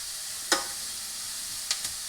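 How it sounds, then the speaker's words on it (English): Onions sautéing in a pan for white chicken chili, a soft continuous sizzle with two or three brief sharp crackles as they are stirred, no talking. "the onions are starting to soften"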